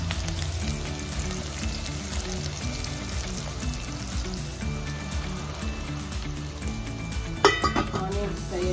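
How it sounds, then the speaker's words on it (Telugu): Onions frying in hot oil that already holds cumin and mustard seeds, for an eggplant curry. A soft, steady sizzle runs throughout, with a brief clatter of stirring near the end. "ఆనియన్స్ మంచిగా ఫ్రై కావాలి."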